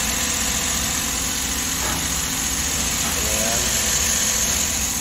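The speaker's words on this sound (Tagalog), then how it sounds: "grabe yung vibrate ng makina" A misfiring car engine idles with strong vibration, a constant rough rumble that fills the whole stretch.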